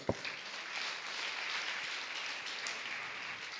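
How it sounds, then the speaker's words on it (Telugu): A crowd claps steadily for several seconds, a dense even patter of applause with no voices on top. "చప్పట్లు కొడదాం."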